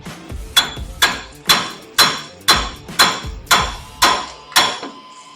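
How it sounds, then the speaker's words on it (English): A hammer strikes a Jeep TJ wheel hub nine times in an even rhythm, each blow sharp and ringing, close and loud with short decays between. "if I can just get a couple taps with the hammer"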